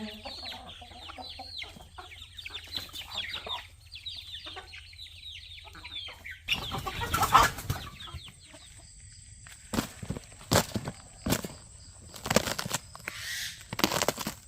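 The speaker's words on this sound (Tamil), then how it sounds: "நம்ம கோழியெல்லாம் பாருங்கள் குளிருக்கு என்ன பண்ணுறதுன்னு புரியாமல் நிற்குதுங்க" Chickens cluck and murmur steadily at close range in cold, rainy weather on a farm, with a few sharper bursts and rustling partway through.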